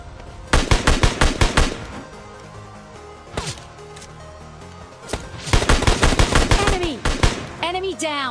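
Rapid bursts of gunfire and hit impacts in PUBG Mobile Lite, headshots landing in quick volleys, with a pause, a single shot, then another dense burst; loud and close, with a voice talking faintly underneath.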